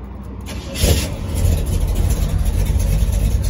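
A 1970 Chevrolet Chevelle SS cranks and fires up, then settles into a steady, rumbling idle up close.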